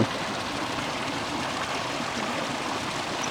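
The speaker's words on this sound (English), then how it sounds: "We got like this little fall from the Churning Cauldron that comes all the way down here." A small waterfall spilling down from the Churning Cauldron in Yellowstone National Park gives a steady, even rush of running water with no voices.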